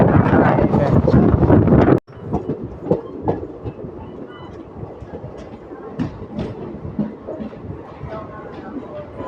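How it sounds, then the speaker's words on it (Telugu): The Hyderabad Express, train 12604, arrives at Bapatla railway station: a loud rush of wheels and wind noise cuts off sharply, then quieter clacking, clanks and rattles of rolling carriages continue. "ట్రైన్స్ అయితే వస్తున్నాయి"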